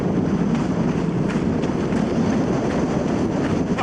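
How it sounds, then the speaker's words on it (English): Strong wind buffets the microphone in a steady, loud broadband roar throughout, with no voices, out on an exposed hillside beside a loch while someone runs against it. "That wind is well strong and I'm running against it."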